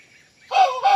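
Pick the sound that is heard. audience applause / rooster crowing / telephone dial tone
rooster crowing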